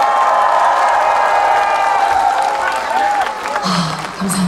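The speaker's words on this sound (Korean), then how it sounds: "함께 해주시고 싶으시면 박수와 함성 부탁드리겠습니다." A crowd at a hot spring festival concert applauds and cheers loudly, a continuous wash of clapping and shouts with a voice ringing over it.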